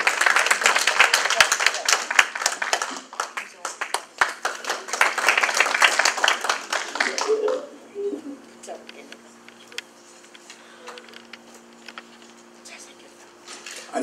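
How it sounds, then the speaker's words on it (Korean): An audience at a Korean-American state senate campaign launch bursts into loud, dense clapping for several seconds, then it thins out into scattered claps and room murmur with faint low tones. "박수 한번 해주시겠습니다"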